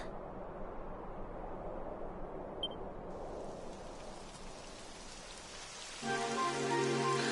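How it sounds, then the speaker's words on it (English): Steady rain patters across the whole stretch in a video game, with the hiss growing denser and brighter toward the end; no voices. "It would have to go and start raining, wouldn't it?"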